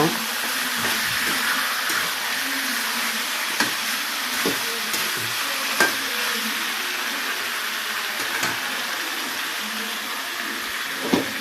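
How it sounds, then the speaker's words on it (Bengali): Mutton fries in a pan with a continuous hiss and crackle, steady and close, punctuated by occasional scraping knocks of a stirring spoon. "আবার একটু নেড়ে দেব।"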